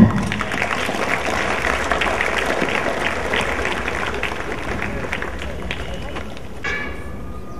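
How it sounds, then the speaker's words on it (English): Loud, steady clapping from a school assembly welcoming a guest from a Bangalore foundation at a school day event, a dense continuous patter lasting several seconds with some crowd murmur. "So let's welcome her with a loud clap."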